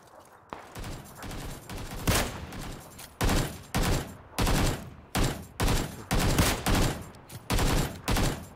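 Gunfire in the video game PUBG rattles out in loud automatic bursts, scattered shots at first, then a steady run of evenly spaced volleys close by, with no talking.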